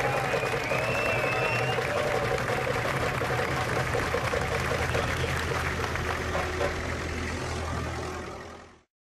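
An audience breaks into applause, a broad continuous wash of clapping over a low rumbling background hum, holding steady for several seconds before cutting off abruptly at the end.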